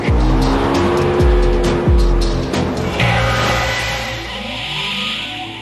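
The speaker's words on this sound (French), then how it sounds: "Le pilote accélère trop rapidement, causant un dérapage de la roue arrière et entraînant un survirage." Can-Am Spyder roadster accelerating hard with its rear wheel skidding and squealing, loud and close over a rising engine whine that eases off toward the end.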